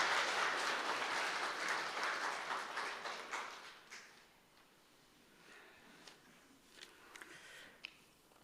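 A church congregation at a Sunday service applauds an elder with a burst of warm clapping that dies away after about four seconds, leaving a few scattered claps and taps in a quiet hall.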